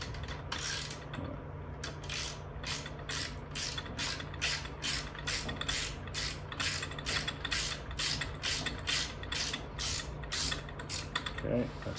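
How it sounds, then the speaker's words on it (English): Ratchet tightening five bolts on an 80/20 aluminum extrusion frame, a steady run of rapid clicking strokes close by, evenly paced for the whole stretch with faint background noise. "We'll tighten up all 5 of these bolts."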